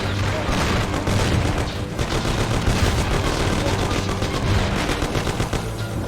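Dense, continuous gunfire rattles throughout a shootout in the video game Mafia: The City of Lost Heaven, with rapid overlapping shots and booms forming a loud, unbroken barrage.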